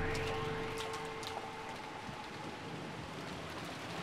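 Steady rain falls on Rokkenjima in the video game Umineko When They Cry, a dense continuous patter with faint tonal music beneath it and no speech.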